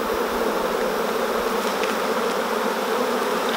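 A dense, continuous buzz of many honeybees in a hive box fills the clip, close and steady, with no talking.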